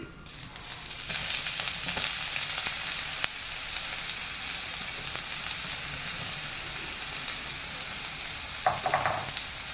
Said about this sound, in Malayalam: അതിലേക്ക് ഇഞ്ചി വെളുത്തുള്ളി ചതച്ചത് ഇട്ട് കൊടുക്കാം